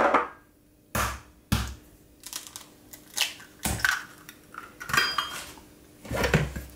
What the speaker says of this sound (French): Et je fouette.